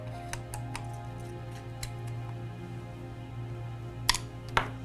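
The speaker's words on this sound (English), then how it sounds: "Tighten the screws down." Screws tightened on the case of a small model Mars rover, a series of faint, sparse clicks and ticks over a low steady hum, with two sharper clacks near the end.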